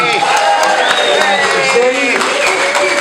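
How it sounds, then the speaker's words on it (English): An audience in a brewery claps and cheers loudly in a dense, sustained round of applause, with voices calling out and a whoop through it. "Just give me another round of applause."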